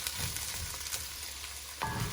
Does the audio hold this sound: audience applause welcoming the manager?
no